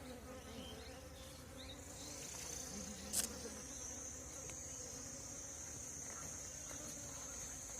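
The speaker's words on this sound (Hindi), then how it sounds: "सारी मधुमक्खियां टोकरी में पकड़ लिया हमने" Asian honeybees (Apis cerana) caught in a basket produce a dense, continuous buzzing drone, steady and fairly close, with one brief louder crackle partway through and no talking.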